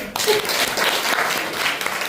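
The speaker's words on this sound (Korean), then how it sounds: "박수 쳐주세요" An audience at a lecture bursts into applause, a dense wash of clapping that starts abruptly and continues evenly, with a voice faintly mixed in.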